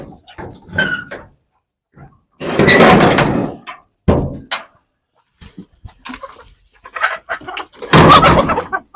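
A coop door creaks and thunks open among chickens, with scattered clucks and rustling between the louder bursts of movement, heard at close range in a quiet setting.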